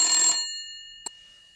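A telephone bell rings, a bright metallic burst that fades away, followed by a single short click. The ring is close and clear, with no talk over it.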